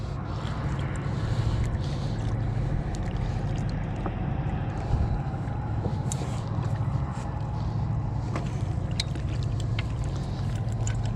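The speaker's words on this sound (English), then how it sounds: "There is a barge cruising in front of us." A river barge cruises past, giving a steady low engine rumble and broad washing water noise, continuous and fairly loud throughout.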